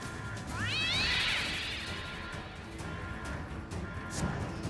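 A cartoon cat meows in South Park: The Fractured But Whole, one loud rising-and-falling yowl over steady game background noise, followed by quieter ambience.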